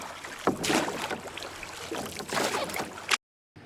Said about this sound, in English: boat,